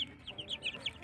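Dominant CZ parent stock chickens cluck in a quick series of short, soft calls close by, several notes in about a second.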